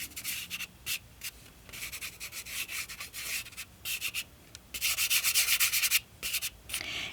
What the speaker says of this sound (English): you can even take your finger and push the chalk in there